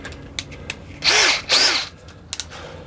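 Power drill unscrewing fasteners on a 6-valve fuel pump, two short whirring bursts close together, surrounded by light clicks and taps from handling parts.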